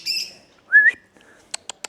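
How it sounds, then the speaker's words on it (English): Caged birds at a village playground in China chirp in a quiet setting: a short tweet, a clear rising whistled note, then three sharp clicks, close by with no talking. "There's a lot of birds in here I can hear. Ah, they're birds in cages."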